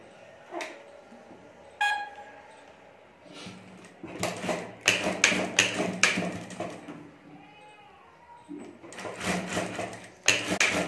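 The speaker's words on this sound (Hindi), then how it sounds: "और अब यहाँ डोरी के ऊपर हमें सिलाई कर देनी है।" Fabric is stitched over the drawstring of a potli bag on a sewing machine, with short runs of close mechanical whirring separated by pauses, clicks and handling sounds.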